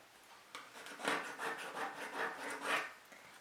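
A pen or chalk is drawn across fabric to mark lines while a makeup pouch is being sewn. A series of soft, rhythmic scratchy strokes is heard close up and quiet, with no talking.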